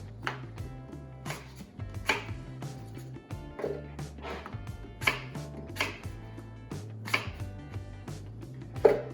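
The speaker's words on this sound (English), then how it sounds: "just a rough chop on the apples" A knife rough-chops apples on a cutting board, sharp close chops landing at an irregular steady rhythm, about a dozen cuts, over a faint low background hum.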